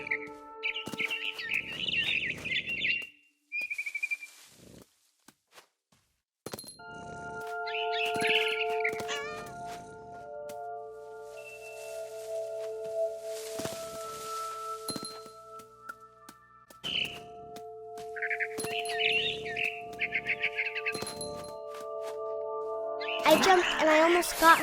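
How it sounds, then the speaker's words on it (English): A barn swallow chirps in the video game What Remains of Edith Finch, giving short, bright twittering bursts that return several times across the scene, fairly close and clear over sustained, gently shifting musical tones. "Then I heard chirping outside my window. It was a barn swallow going back to her nest."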